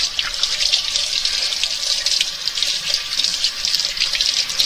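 Tap water runs steadily into a sink as cream cheese is washed off hands while making a cheesecake, a continuous bright hiss with no talk over it.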